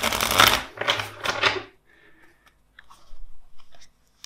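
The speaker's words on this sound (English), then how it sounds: "So first, two shuffles." Tarot cards are shuffled by hand in a few quick riffling bursts, crisp and close, followed by softer scattered taps and card handling in an otherwise quiet room.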